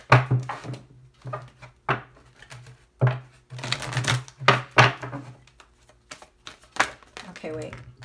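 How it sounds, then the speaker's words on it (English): Tarot cards being shuffled in irregular bursts of crisp riffling and soft slaps, fairly close, with pauses between, while someone talks over much of it. "I heard one more shuffle."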